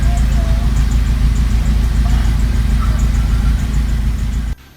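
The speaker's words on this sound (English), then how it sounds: "at least it idles and doesn't die" A 2018 Hyundai Accent with a replaced head gasket idles roughly, a steady, loud low rumble that holds evenly for several seconds before dropping away abruptly at the end.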